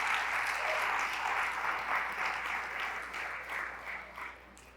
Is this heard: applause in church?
yes